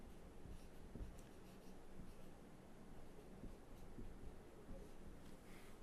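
Marker or chalk writing a word on a board during a units-and-dimensions physics lecture: steady, soft scratching strokes that continue for about six seconds over a faint background hiss, with no talking.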